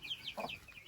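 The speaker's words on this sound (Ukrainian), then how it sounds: "Шовкова курочка з курчатками." A Silkie hen with her chicks: high, thin chick peeps repeat over a single low cluck from the hen, all fairly quiet and close.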